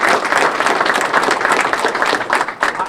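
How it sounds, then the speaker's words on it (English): An audience at a company meeting of Ford dealership staff claps for about three seconds, a close, fairly loud patter of hands that thins out briefly near the end. "Let's give them a round of applause."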